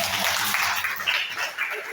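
Congregation at an Indonesian Sunday morning church service clapping together, a dense steady wash of applause lasting throughout.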